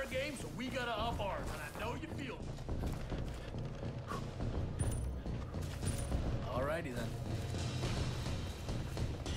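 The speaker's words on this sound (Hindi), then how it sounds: "ऊपर गोलियां चल रही है," Bursts of rapid Far Cry 5 gunfire crackle through the clip, partly masked by people talking excitedly over it.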